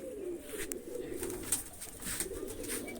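Domestic flying pigeons in a loft with nesting pairs coo softly and close by, in repeated low throaty phrases with brief rustles, and no one speaking.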